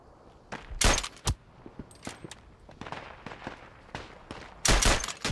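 Machine gun fire crackles in a World War One video game, with a few sharp loud bursts near the start and end and scattered fainter shots in between.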